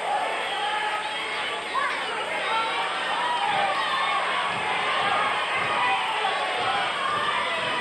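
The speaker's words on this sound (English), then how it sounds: "May not be the biggest crowd, but it's an enthusiastic one that we've got on hand." A lively pro wrestling crowd at a Chris Adams versus Brutus Beefcake match cheers and chatters throughout, with shouts rising over a steady wall of noise.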